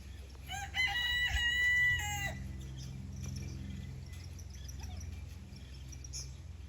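A rooster crows once nearby with a rising, harmonic call, followed by quieter clucking and faint backyard ambience.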